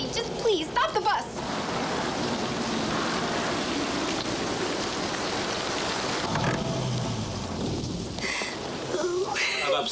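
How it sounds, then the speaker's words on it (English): Heavy rain pours in a steady, dense roar throughout, with a few brief voices and low rumbles mixed in. "It's raining cats and dogs."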